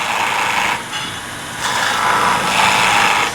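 Skew chisel making a planing cut on spinning wood on a wood lathe: a steady, close hissing cutting noise that swells and eases in several passes, with no talking.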